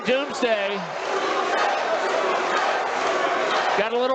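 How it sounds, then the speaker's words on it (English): A fight crowd at a catchweight bout shouts and chatters in a noisy, continuous roar, with raised voices rising at the start and end over the steady din. "The crowd saying Doomsday."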